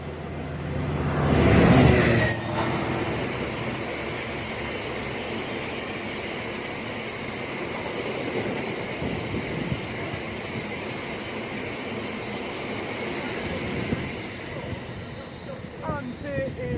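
A GB Railfreight Class 66 locomotive hauls a freight train through a station on a working from Tunstead Sidings to Rugby, starting with a loud nearby engine surge, then a long steady rumble of wagons clattering and squealing past.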